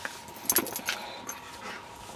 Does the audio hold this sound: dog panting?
yes